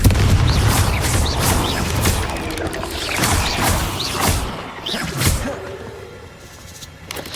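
The Confringo blasting spell in Hogwarts Legacy sets off a series of heavy booms and crashes with whooshing bursts and rumbling impacts. The blasts are loud and close at first, then thin out toward the end.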